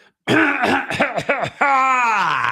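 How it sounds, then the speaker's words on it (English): A person clears their throat several times in quick, raspy bursts, then a drawn-out voiced rumble, close and loud. "just clear my throat."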